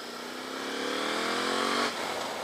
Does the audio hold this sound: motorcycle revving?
yes